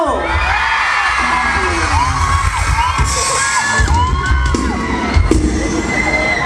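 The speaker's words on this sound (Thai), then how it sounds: "กรี๊ดดังประมาณเดิม" A large crowd screams and cheers loudly and continuously, high-pitched shrieks blending into a dense roar of voices.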